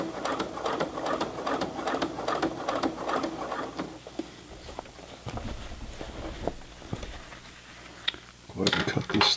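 A Brother PC 420 sewing machine stitches a hem on jeans, running in steady rapid bursts up close, pausing midway with some handling noise before the motor starts again near the end.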